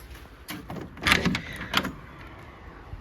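A door from a garage into a garden is handled, with a few close clunks and rattles of the latch and frame over a couple of seconds.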